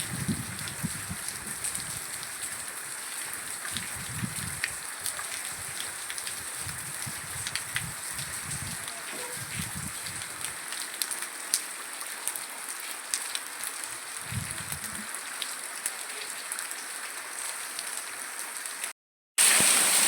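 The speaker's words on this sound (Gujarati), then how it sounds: "અને વરસાદ ચાલુ જ છે" Rain falls steadily in a Gujarati market area, a continuous soft hiss of drops on surfaces. Faint low thumps come and go during the first half, and a short dropout sits near the end.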